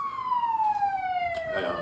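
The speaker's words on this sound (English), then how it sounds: "I didn't know if we could hear that siren or not." Emergency siren passing outside during an indoor community talk, a single clear wailing tone sweeping steadily downward, fairly close, with no one speaking over it.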